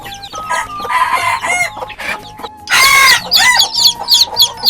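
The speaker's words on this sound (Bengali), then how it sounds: "ফার্মে মুরগ আর দেশি মুরগি দিয়ে বাচ্চা উঠেছে আলহামদুলিল্লাহ" Domestic chickens on a Bangladeshi farm cluck and crow loudly and close by, in overlapping bursts with brief pauses between them, and one sharp outburst comes near the middle.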